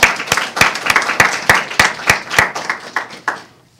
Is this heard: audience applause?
yes